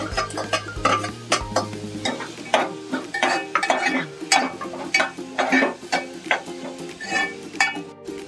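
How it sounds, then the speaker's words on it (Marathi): Green chillies tossed into softened onions frying in a mustard-seed tempering, then stirred, with a continuous close sizzle broken by repeated rhythmic spoon scrapes and clatters against the pan, and a low hum fading out early. "आता मिरची टाकून घेऊया"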